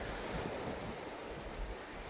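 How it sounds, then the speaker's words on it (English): Sea surf washes steadily onto a secluded beach in Phetchaburi, Thailand, a continuous close wash mixed with breezy wind noise, with no voices. "here you can just enjoy the sound of the sea"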